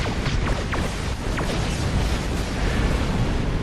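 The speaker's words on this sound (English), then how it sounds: "and I'm like reversing to stay away from the explosions." Explosions of ships in the Star Trek Online space game, a dense continuous roar of rumbling blasts with crackling bursts and a few sweeping tones layered on top, loud and steady throughout.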